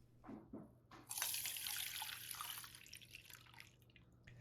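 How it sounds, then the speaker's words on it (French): An egg mixture drips and trickles as it is filtered through a very fine strainer, a close, quiet run of liquid patter after a few soft opening drops, steady at first and then slowly fading. "Filtrer la préparation avec une passoire très fine."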